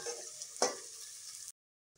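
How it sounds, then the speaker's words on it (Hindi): Chopped jackfruit and onions sizzle and fry in a pan, a steady close hiss with a brief stir-like rustle partway through before the sound cuts off abruptly. "प्याज के साथ ही हम कटहल को भी डाल देंगे। और ढककर कम से कम हम 10 मिनट पकाएंगे।"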